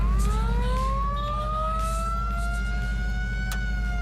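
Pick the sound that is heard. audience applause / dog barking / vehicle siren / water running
vehicle siren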